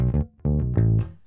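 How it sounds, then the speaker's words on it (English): Short electric bass fill closing the eighth bar of a funky blues bass line, a quick run of plucked notes with a brief gap, sounding close and clear with no talking. "there's this lovely little fill that he puts in to get to the next section"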